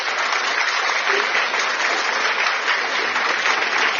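Sustained applause from many hands, dense and steady at an even loudness for the full stretch, with no voices over it.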